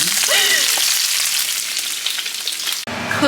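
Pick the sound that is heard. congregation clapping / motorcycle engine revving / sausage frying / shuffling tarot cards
sausage frying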